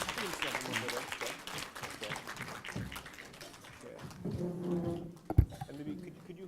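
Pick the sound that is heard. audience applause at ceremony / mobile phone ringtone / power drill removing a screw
audience applause at ceremony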